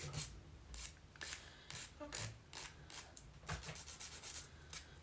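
Nail file rubbed in quick repeated strokes against fingernails, shaping dip powder nails at home; a steady run of short, close scraping passes with a soft, rasping texture and no talking.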